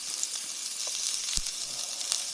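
Chopped onions fry in a skillet for a chicken, spinach and mushroom dish, giving a steady, even sizzle with faint crackles and one soft thump, alone and moderately quiet.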